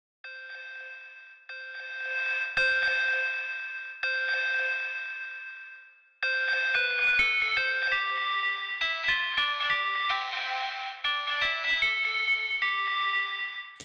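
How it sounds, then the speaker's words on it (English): Synth notes run through a distortion audio effect plugin, buzzy and gritty with echoing tails, a few sustained tones followed by a quicker run of notes. "Need to go in and choose myself a distortion."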